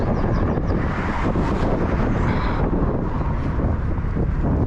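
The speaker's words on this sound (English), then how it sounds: "Bloody wind." Steady, heavy wind buffeting the microphone outdoors on a walk, a loud continuous low rumble with no other clear sounds.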